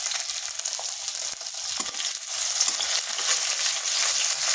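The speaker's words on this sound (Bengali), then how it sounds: "একটু হালকা ভেজে নিচ্ছি যাতে তার কাঁচা গন্ধটা চলে যায়।" Grated ginger and green chilies sizzle steadily in hot oil in a pan for sabudana khichuri, a continuous close crackling hiss that grows slightly louder toward the end, with a few faint clinks.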